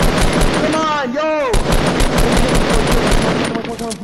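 Rapid automatic gunfire in Fortnite, loud dense bursts of shots with whistling sweeps of game effects. A player's voice is heard faintly over the shooting.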